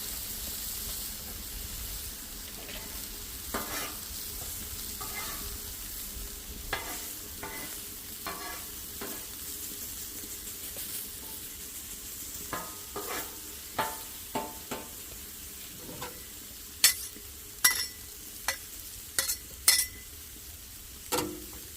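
Sugar snap peas steam and sizzle in a covered pan, making a faint, steady hiss punctuated by scattered soft clicks and knocks that grow sharper and more frequent toward the end.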